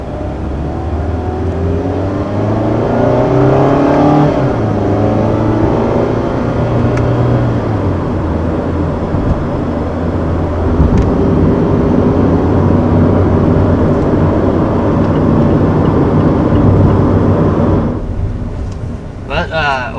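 A 2019 Mazda MX-5 Miata sports car engine drones loudly while driving, the revs rising and falling in steady sweeps under a continuous road roar, with a brief noisy burst near the end.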